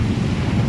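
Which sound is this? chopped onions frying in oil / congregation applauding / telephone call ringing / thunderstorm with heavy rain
thunderstorm with heavy rain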